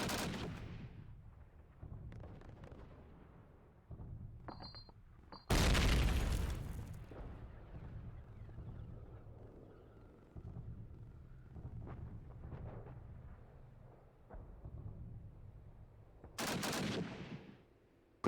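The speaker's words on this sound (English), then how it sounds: "Gets taken out by Cobra with a nice headshot" Gunfire in the Call of Duty: United Offensive video game, heard as a few sharp, loud shots and bursts separated by quieter stretches of in-game ambience and footsteps, with one especially heavy blast near the middle.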